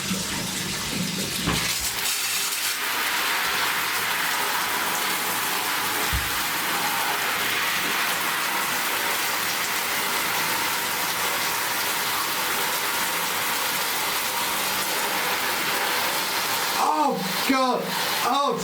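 Steady rushing water pours over a pair of wireless earbuds during a waterproof test, a continuous close hiss that ends with a brief burst of shrill wailing tones near the end.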